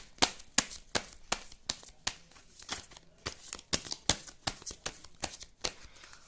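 Tarot cards are shuffled and drawn by hand, giving a quick, irregular series of crisp riffling snaps and flicks, close and fairly quiet, with no talking.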